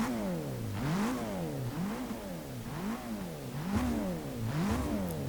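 A race car engine revs hard around the Brands Hatch circuit in Forza Motorsport 6, its pitch climbing and dropping in repeated gear-shift sweeps, loud and close, with no speech.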